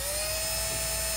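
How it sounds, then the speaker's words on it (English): A power drill bores a starter hole into a plastic golf cart fender flare, a steady high-pitched whine that holds at one level, close and loud, with no one talking. "I'm just going to go ahead and start a hole here."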